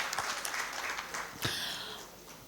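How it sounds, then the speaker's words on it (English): An audience applauds a speaker at a tax conclave panel discussion, fairly faint and distant clapping that swells briefly midway and then tapers off. "Please give a round of applause to him."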